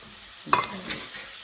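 Onions land in a hot pan for garlic chilli chicken jalfrezi, giving one brief burst of sizzling and stirring close by that quickly settles into a faint hiss.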